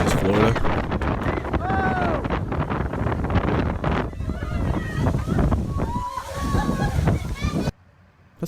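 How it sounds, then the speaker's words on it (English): Strong wind buffets a microphone in a played clip, a loud constant roar with gusts and a brief dropout near the end, while people talk and exclaim over it. "That's powerful wind, though."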